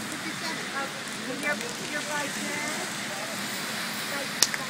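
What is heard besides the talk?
rain falling on a New York street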